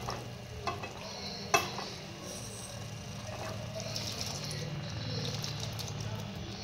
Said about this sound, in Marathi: आता लगेचच आपण यामध्ये हे बॉईल केलेले छोले टाकून घ्यायचे।